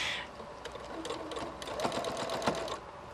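Sewing machine stitching through a tie shirt and canvas bag, a steady close mechanical chatter that speeds up partway through, with a soft rhythmic clatter and no talk over it.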